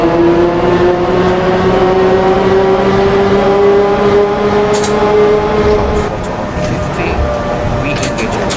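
An electric multiple unit train in a train driving game on Route 10 accelerating under throttle, with a steady rising motor tone and rumble throughout, louder early and easing slightly near the end, with faint clicks and a voice present.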